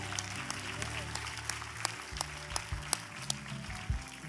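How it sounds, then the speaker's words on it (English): An audience claps steadily, a dense patter of many hands with a few sharper claps standing out, continuing throughout. "So let's put our hands together"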